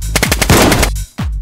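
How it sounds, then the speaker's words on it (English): Rapid, loud bursts of gunfire in the video game DayZ, from a shotgun, fire in a quick cluster, followed by a short gap and another close shot. "That's a shotgun."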